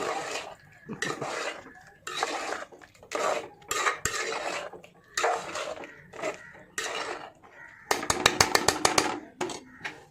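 Pulav being stirred in a metal cooking pot, with repeated scraping and clanking of a utensil against the pot in irregular bursts, close and fairly loud, ending in a quick series of rapid knocks.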